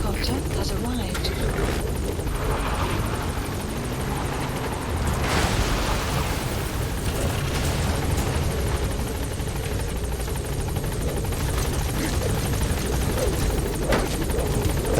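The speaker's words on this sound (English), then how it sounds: "Support helicopter has arrived." A support helicopter in Metal Gear Solid 5 arrives and takes off, its rotor thudding and turbine whine continuous, loud and close throughout, with game voices speaking over the engine noise.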